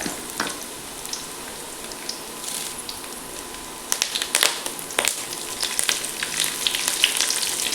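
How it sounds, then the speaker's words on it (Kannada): Curry leaves dropped into hot oil already browning garlic for a spinach gojju, giving a bright crackling sizzle with sharp pops and spatters that build in intensity and continue throughout, with no talk. "ಅದಕ್ಕೀಗ ಕರಿಬೇವು ಹಾಕೊಂಬ."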